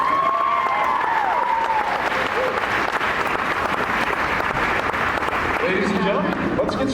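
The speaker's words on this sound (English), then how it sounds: "One more round of applause for them." An audience at a chamber of commerce political debate claps in a dense, sustained burst of applause, with a few cheers mixed in near the start.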